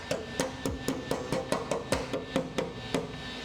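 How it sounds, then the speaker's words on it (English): A hammer bangs repeatedly on a car body panel behind the headlight bucket during rust repair, making about a dozen sharp metallic strikes in a steady rhythm, close and fairly loud. "So let's smash it with a hammer."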